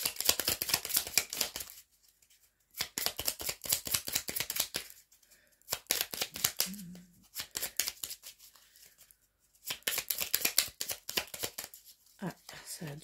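A deck of cards is shuffled in quick bursts of crisp, rapid riffling, several separate runs with short pauses between them, close and fairly loud, while a voice talks in French in the gaps.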